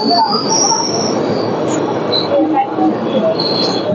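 The Gangasagar Express passenger train slows to stop at Bidhannagar station, with high, piercing wheel squeals cutting in and out over a steady rumble of rolling carriages.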